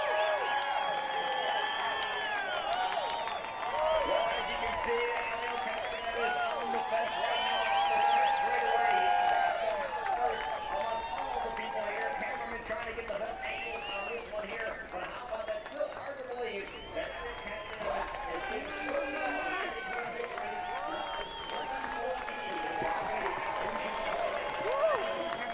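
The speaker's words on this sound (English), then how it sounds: "Listen to the crowd." Crowd cheering and applauding at an IndyCar race in Iowa after Castroneves' win, a steady roar with whoops under continuous commentator talk throughout.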